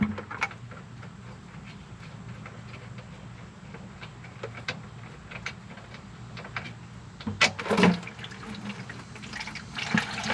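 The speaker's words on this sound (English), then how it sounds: "Yeah, that oil just comes rushing out." Engine oil from a Ram Cummins diesel truck pours out of the drain into a bucket, a steady liquid rush with splashy bursts near the end, close by and with no talking.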